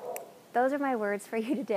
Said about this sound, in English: You can hear my dog is barking in the distance.